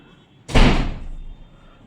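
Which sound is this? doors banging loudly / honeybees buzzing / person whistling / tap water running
doors banging loudly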